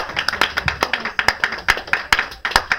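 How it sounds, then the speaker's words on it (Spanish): A church congregation claps loudly in a sharp, somewhat irregular rhythm of distinct hand claps, close and prominent, with faint background voices. "Aplaude fuerte si quiere y con ganas, por favor."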